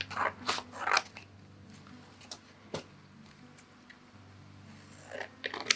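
Scissors snip through a paper strip in a few quick crisp cuts, close and fairly quiet, with scattered light clicks and rustles between them.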